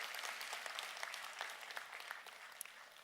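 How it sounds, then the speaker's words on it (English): A business event audience claps their hands together, a soft, distant wash of many hands with a few crisper individual claps standing out, continuing evenly throughout with no voices. "Clap your hands if you want your business to go around the world."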